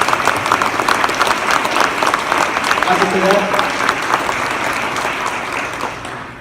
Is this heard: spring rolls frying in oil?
no